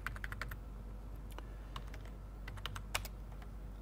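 Quiet close-up typing on a computer keyboard, a series of light, irregular key clicks in small bursts with brief pauses, as a new folder name is entered.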